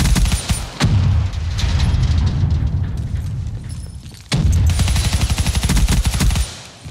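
Gunfire and a grenade blast in Call of Duty Black Ops 3: loud, dense bursts of machine-gun fire with a heavy boom midway, followed by more rapid automatic shots before fading out.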